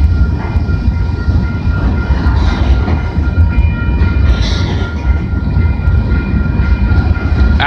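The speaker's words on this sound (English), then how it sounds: "This train originates from the Oak Yard in Detroit, Michigan" Freight train heading from Detroit toward Toronto passes close on the Windsor subdivision at Richmond Street in London, Ontario, in February, a loud steady roar of rolling wagons with rumbling wheels and faint rail clatter throughout.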